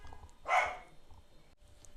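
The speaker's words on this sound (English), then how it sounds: "My dog started barking." A dog gives a single short bark, somewhat distant, against a quiet room.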